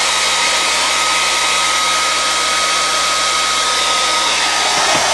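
Loud, steady whoosh of a handheld hair dryer running close by without a break, used to dry lightweight puppet-making pieces on a table.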